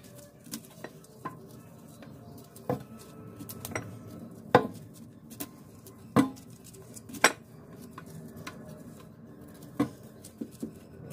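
Broccoli being cut on a board in a home kitchen, with scattered knife knocks and a few louder chops spaced irregularly over quiet background, no voices.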